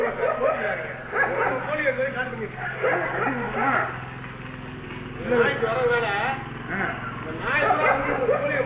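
A dog barks and yips repeatedly at moderate distance, mixed in with people talking and a steady low hum in the background.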